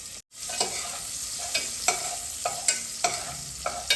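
Onions fry on a gas stove, a steady close sizzle punctuated by regular scraping strokes of a spatula stirring the pan, roughly every half second after a brief silent gap at the start.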